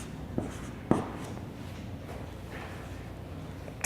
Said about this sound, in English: I can just write